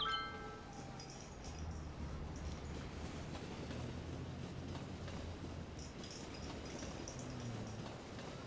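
A Melbourne tram rolls past in the city game Cities: Skylines, giving a low rail rumble and rattling wheels with a few clinks, at a steady moderate level among city ambience. A short bell-like tone sounds at the start.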